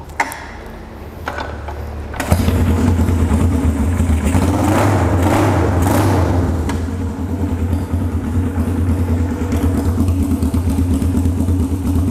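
A Honda CB450 custom chopper motorcycle engine starting up and running, a loud close rumble that settles into a steady idle, with brief talk at the start.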